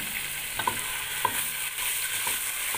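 Tomato sauce frying in a pan hisses with a steady sizzle, and a few soft scrapes and taps come from stirring, with no voices.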